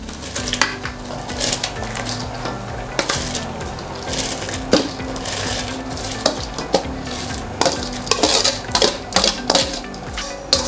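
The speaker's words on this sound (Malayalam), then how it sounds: "നമുക്ക് ഈ റൈസ് ഇതിനകത്തേക്ക് ഇട്ട് കൊടുക്കാം." Half-cooked rice is tipped into a pot of chicken biryani, with scraping, spoon clinks and knocks against the metal pot over a faint sizzle, near and irregular.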